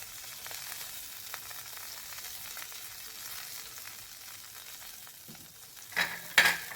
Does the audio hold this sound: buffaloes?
no